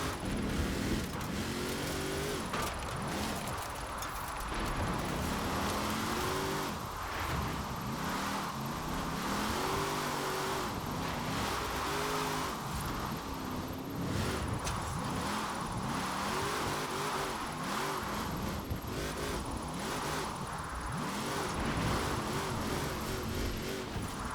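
Hot Wheels dually truck drifting in Forza Horizon 4, a steady engine drone with revs rising and falling in waves throughout, loud and continuous, no talk.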